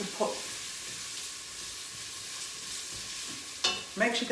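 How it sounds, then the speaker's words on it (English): Spices crackle and sizzle in a pressure cooker while turkey is being prepared for a Christmas meal, a steady faint frying hiss with a few louder bursts of popping and clatter near the end. "I've got all the spices going. That's what's popping and going at the moment"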